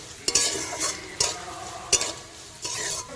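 Food frying in a pan while being stirred, soft sizzling under four sharp scrapes and clacks of a utensil against the pan at regular intervals, with no talk.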